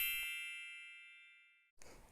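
A single bright notification bell ding rings out clearly and decays slowly over more than a second, followed by a brief burst of soft room noise.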